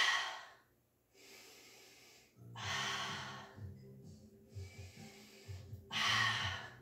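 Heavy, deliberate breathing during a pilates exercise, long airy inhales and exhales alternating with short pauses, close and fairly soft, with faint low background hum.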